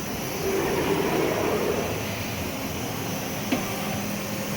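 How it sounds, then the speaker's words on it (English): An AXYZ Trident CNC router gantry traversing to pick up a tool gives a steady, moderately loud mechanical whir and hum, with one brief clunk near the end. "this should send the machine over to grab the tool"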